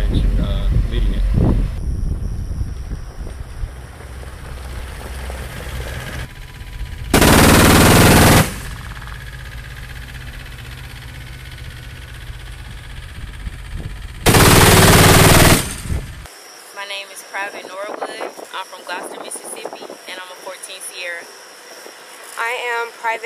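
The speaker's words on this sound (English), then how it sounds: "Today we're conducting a shoot on the move live fire" Bursts of machine gun fire ring out from an Avenger air defense system during a shoot-on-the-move live fire exercise, two loud sustained volleys about a second long over outdoor wind and vehicle rumble, then a person speaks.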